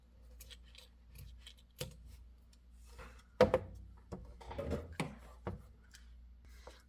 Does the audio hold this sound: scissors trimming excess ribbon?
yes